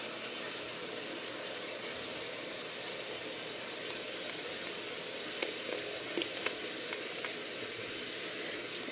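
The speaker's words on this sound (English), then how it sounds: "Let it boil until it becomes thick enough, so probably a few minutes." Sweet relish mixture thickened with cornstarch boils in a pot, giving a steady, close bubbling hiss that runs unbroken throughout with a few faint pops near the end.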